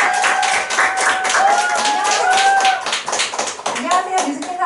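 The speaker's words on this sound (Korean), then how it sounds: "큰 박수 부탁드리겠습니다" Audience clapping for a speaker being welcomed at a Nu Skin group business seminar, rhythmic claps mixed with a music-like tonal background and crowd voices, fairly loud and steady throughout.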